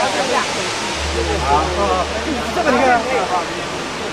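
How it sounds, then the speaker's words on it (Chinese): Huangguoshu waterfall roars as a steady broadband wash of falling water close by, with a low hum underneath and people chatting over it throughout. "黄果树大瀑布。"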